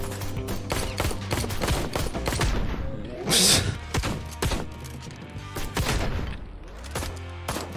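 Rapid bursts of video game gunfire from a handheld gun in Ride to Hell: Retribution, loud and repeated throughout, with a sharper louder blast midway and faint background game noise.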